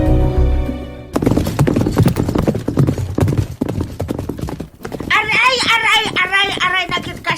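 A horse's hooves clip-clop loudly in a steady rhythm, followed by a whinny-like call near the end, after a brief musical sting at the start.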